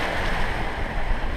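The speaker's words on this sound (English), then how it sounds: "You can hear all the waves are catching up to us and throwing us around." Ocean waves surge and slosh around a sailboat in rough following seas, a close, continuous wash with wind buffeting the mic.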